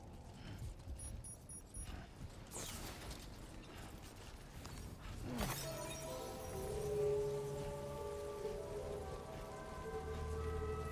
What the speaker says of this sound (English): Oh, it's already started raining.